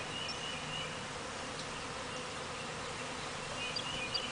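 A calm swarm of honeybees being gathered outdoors, producing a steady, soft, low buzzing hum that stays even and continuous throughout, with no voices.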